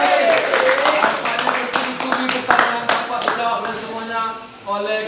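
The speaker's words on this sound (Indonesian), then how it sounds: "Oke, kita beri aplaus dulu." A room full of students at a vocational high school claps in applause for group 3, dense uneven clapping rising and tapering over several seconds, with voices talking over it.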